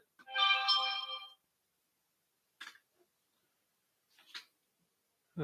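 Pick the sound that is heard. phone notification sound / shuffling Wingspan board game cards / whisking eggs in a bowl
phone notification sound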